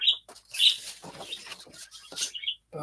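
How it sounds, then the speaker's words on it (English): Small birds chirping at close range in an indoor setting, a quick series of high, thin tweets coming in short bursts with brief gaps between them. "The birds are happy."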